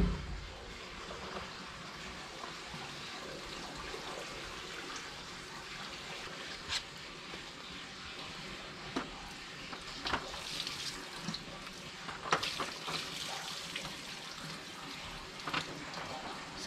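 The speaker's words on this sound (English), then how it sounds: "Add some water in there" Water splashes and trickles steadily into the inlet side of a septic tank at low volume, with occasional sharper splashes and knocks.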